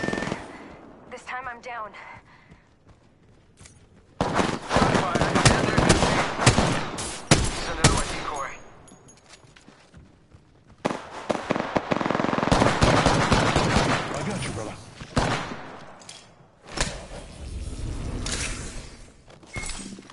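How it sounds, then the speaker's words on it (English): Rapid automatic gunfire bursts from a PS4 online shooter video game, loud repeated volleys with brief pauses between, while someone talks over the action. "Taking fire, brothers. Shots fired, and they're hitting me."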